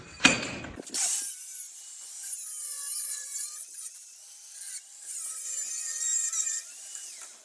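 A sharp knock, then steady back-and-forth rasping of a file on wood, close and continuous with slight pitch shifts between strokes.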